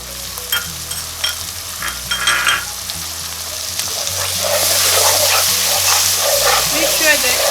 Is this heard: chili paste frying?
yes